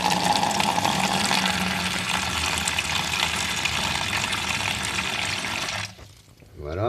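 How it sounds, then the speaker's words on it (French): Tap water gushes loudly and steadily into a homemade electrolysis tub for cleaning coins, a continuous pouring rush that cuts off abruptly near the end, leaving a brief quieter trickle. "Moi je mets de l'eau de robinet."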